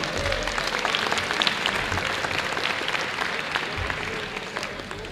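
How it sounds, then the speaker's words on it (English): Dense, sustained applause from a banquet audience at a sports hall of fame ceremony, steady and full for the whole stretch with a faint hum underneath. "So give yourselves a round of applause."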